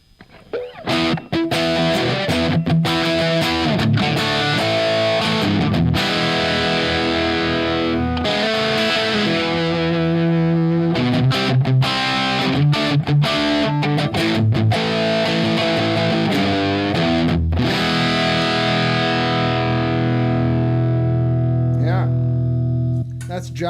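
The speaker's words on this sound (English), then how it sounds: "Let's get a little distortion out of that." Electric guitar played through a Pack Rat distortion pedal, loud sustained overdriven chords and riffs ringing out with a few short pauses, the last chord fading away at the end.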